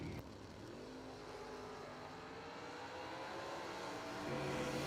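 Engines of a 1966 Pontiac Tempest and a 2006 Ford Mustang in a drag race, a steady loud roar with rising revs and a swell in volume near the end, no voices.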